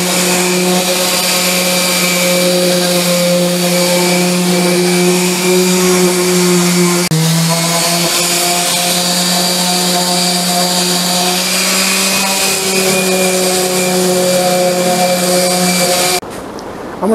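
A loud, steady power sander with 120-grit paper whirs continuously on wood edges at a constant droning pitch, briefly dipping once partway through before cutting off near the end.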